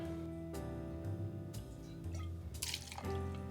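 Half an ounce of tequila is poured for a cocktail, a short, faint trickle and splash heard close up over low background hum.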